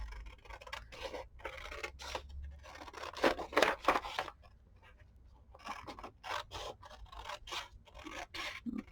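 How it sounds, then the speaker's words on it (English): Close, crisp snipping of scissors cutting through a paper gift bag, with a steady run of quick cuts, a louder cluster in the middle, then more snips. "Cut that one off."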